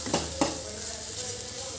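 Capsicum curry sizzles in a pan while a utensil stirs it, with a few distinct scraping strokes near the start over a steady frying hiss; no talking.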